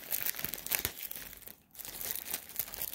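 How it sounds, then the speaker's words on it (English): Plastic packaging holding Shark vacuum replacement filters being opened, with close crinkling and crumpling that is briefly interrupted before more rustling. "Now we'll open up these. Try not to tear up these filters."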